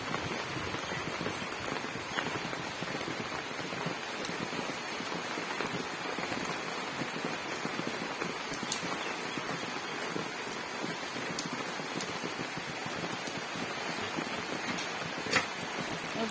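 Rain falls steadily on banana plants in a field, a dense continuous patter with scattered sharper drips standing out and one louder splash near the end. No one speaks.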